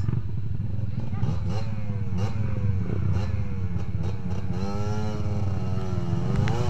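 A motorcycle engine labors on a dirt trail with the clutch being worked, rising and falling in pitch in uneven surges, with voices talking over it.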